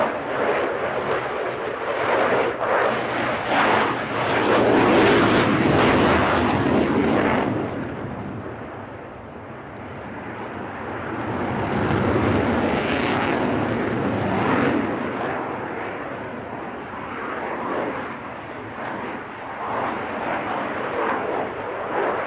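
A Lockheed Martin military jet flies a display at the Farnborough International Airshow 2024, its loud roar swelling, easing, then building again as it passes, with no talking.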